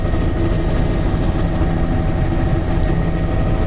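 Steady, loud engine and rotor drone heard from inside an aircraft on an aerial survey flight over rocky reefs, a dense constant roar with faint rhythmic pulsing and no speech.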